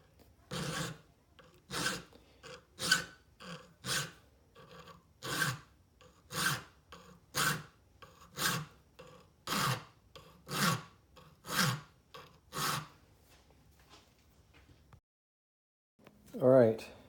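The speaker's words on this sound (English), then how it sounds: "And I file that in there." A hand file rasps decorative notches into a steel knife spine, about fifteen evenly spaced strokes close to the microphone, each a short gritty scrape, ending after a pause with a brief sound.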